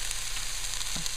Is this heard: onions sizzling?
yes